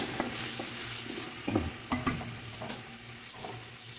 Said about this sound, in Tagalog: Lagay natin ang malaking kamatis.